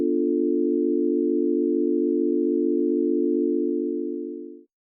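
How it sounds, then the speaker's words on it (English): A steady, pure synthesizer tone from the CHOSAT synth with its stereo slider fully down, making it mono; one unwavering note held for over four seconds before fading quickly, clean and alone. "When it's all the way down, the signal becomes monophonic"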